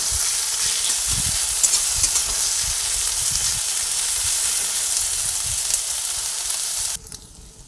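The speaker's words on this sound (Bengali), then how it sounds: "পেঁয়াজটা দিয়ে দেওয়ার পরে পেঁয়াজটা অল্প করে ভেজে নিচ্ছি।" Chopped onion frying in oil in a pan, a close, bright, even sizzle with occasional stirring scrapes that cuts off abruptly near the end, no one speaking.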